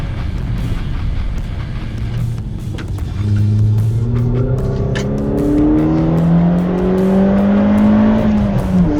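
A Mazda 3 Sport with a 150-horsepower engine accelerates hard, its engine note climbing through the revs in several rising sweeps, loud and close from inside the car, with no talking.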